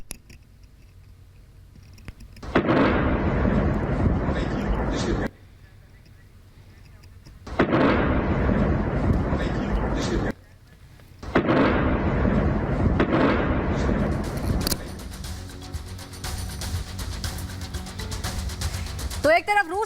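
Distant shelling explosions from the Russia-Ukraine war roll in as heavy, sustained rumbling bursts, three long loud stretches separated by quieter gaps, then a noisy lingering roar, with talking alongside.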